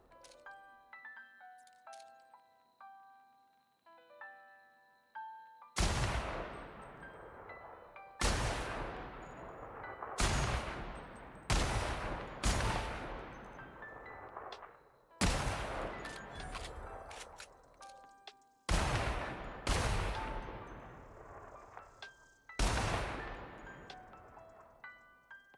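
Rifle shots from The Outer Worlds, eight loud sharp reports spaced irregularly, each trailing a long echoing decay, following a quiet stretch of game music tones.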